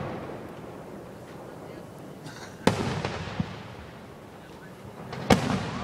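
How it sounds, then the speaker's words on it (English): An outdoor fireworks display sends two sharp, booming bursts a few seconds apart, each trailed by crackling, with a low crowd murmur and wind beneath. "Totally First Nation fireworks"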